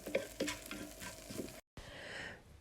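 A minced meat tajine simmers in a pot with a soft, steady sizzle and bubbling, plus a few faint utensil clinks near the start, broken by a brief silence.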